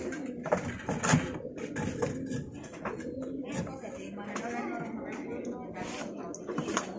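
Domestic pigeons cooing in a loft, low soft throaty coos repeating under background noise and occasional rustling, with someone talking nearby.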